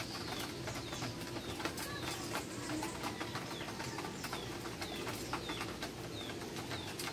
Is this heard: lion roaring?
no